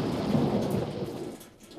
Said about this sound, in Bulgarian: А парижкият дъжд продължава да вали тук